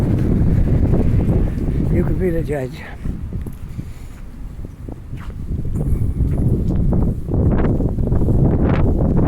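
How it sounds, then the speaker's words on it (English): Wind buffets the microphone in low rumbling gusts between buildings in downtown Halifax on a late fall day while a person talks, with some footsteps audible underneath. "A little breezy right here."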